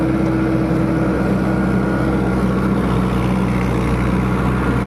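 A tractor engine runs steadily in an open farm field, a loud continuous low rumble with a droning hum that holds constant throughout before cutting off abruptly at the very end.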